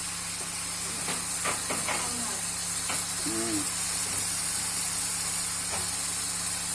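Shrimp sauté in a hot pan with a constant, loud sizzling hiss, broken by a few faint clinks and small background sounds.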